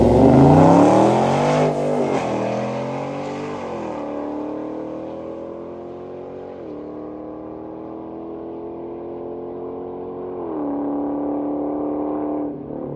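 A street-tire drag car at the track, one of a group of twin-turbo Hellcats, Trackhawks and Ram TRX trucks, spins its tires before the light: a loud close engine roar with falling then steady revs and tire squeal.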